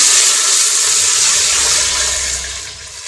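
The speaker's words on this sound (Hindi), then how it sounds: "इसके अंदर हम डाल रहे हैं जी पानी को और आप फ्लेम थोड़ा स्लो करेंगे" Water is poured into hot oil in a cooking pot for daal, giving a loud, steady rushing sizzle and splash that holds for about three seconds before easing off slightly.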